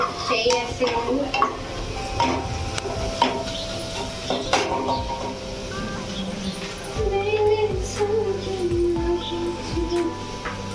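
Chopped onions frying in a pan for a Sunday mutton curry, with steady sizzling and crackling alongside repeated scraping and stirring of a spoon against the pan, close and busy throughout.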